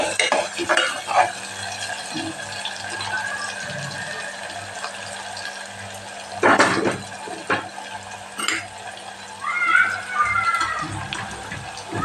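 Stirring tomatoes into sautéed garlic and onion in a pan for Kathiyavadi eggplant, potato and fenugreek curry: a spoon scrapes and clinks against the metal pan in irregular strokes, with soft sizzling beneath and a voice talking throughout.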